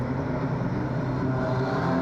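Streetstock race cars running side by side down the back straight of an oval track at night, a continuous loud engine roar with no commentary over it.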